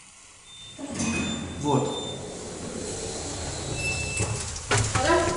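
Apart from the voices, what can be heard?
elevator arriving, doors sliding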